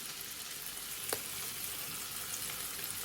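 Onion pancake frying in a pan at home, a steady close sizzle of hot oil throughout with one brief sharper crackle or pop near the middle.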